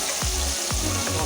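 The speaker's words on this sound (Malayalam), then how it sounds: "നമ്മൾ കുറച്ച് കോഴി പൊരിക്കട്ടോ." Chicken pieces frying in hot oil for a festive biryani, a loud, dense crackling sizzle close up, broken by a few quick stirring scrapes in the pan.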